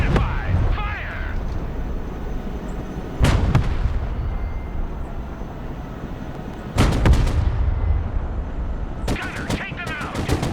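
Tank cannon fire in the Broken Arrow war game: a few sharp, loud booming shots with rolling tails, separated by seconds of steady battle rumble, with a voice speaking over it.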